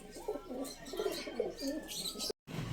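Pigeons coo and chirp in a close, continuous cluster of soft rounded calls outdoors at a release site in General Trias, Cavite, with a brief dropout near the end and no talk.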